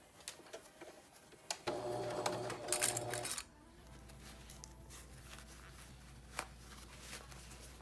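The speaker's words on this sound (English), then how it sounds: "Okay, we're gonna sew all the way around." A sewing machine stitches around a fabric camera case in a short, fast mechanical whir lasting under two seconds, with quiet handling noises and soft clicks before and after in a quiet room.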